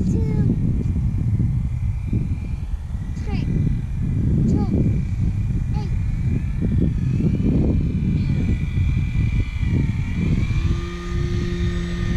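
An E-flite Carbon Z Cub SS radio-controlled airplane comes in to land, its electric motor and propeller droning steadily under loud wind rumble, with people talking excitedly in Danish over it.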